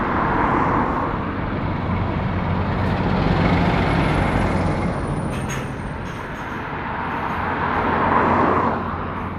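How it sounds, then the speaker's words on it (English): Heavy lorries roll past on a road near Penrith, producing a steady, loud broadband roar of engines and tyres that swells and fades as vehicles go by. "Lots of lorries over the other side of the road."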